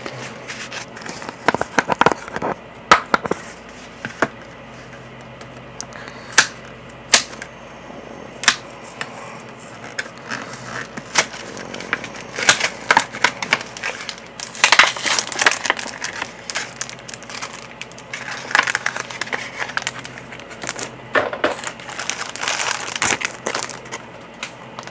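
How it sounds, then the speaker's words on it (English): A Yu-Gi-Oh Primal Origins foil card pack is torn and opened up close, with repeated sharp crinkles, crackles and rustling bursts and brief pauses in between. "let's go ahead and open our Primal Origins pack."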